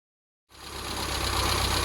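A Mini car engine, its carburettor needle just re-tuned, starts up after a half-second of silence and runs with a loud, steady, close throbbing drone, with no talk.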